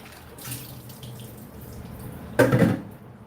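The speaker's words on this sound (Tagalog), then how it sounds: "Kahit yung dito sa gripo, pwede na." Tap water briefly runs into a cooking pan. A low, quiet trickle plays for a while, then a louder splashing burst near the end, with no talking.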